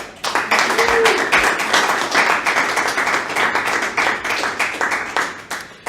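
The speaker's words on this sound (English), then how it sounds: "A big round of applause." A small group applauds after a quiz result during a talk on whether the Bible is trustworthy, giving a loud burst of clapping with distinct individual claps that continues unevenly and tapers toward the end.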